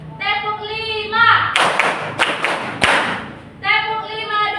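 Eighth-grade maths students in a classroom clap a short pattern of five sharp, loud claps in quick succession, with a teacher's voice before and after.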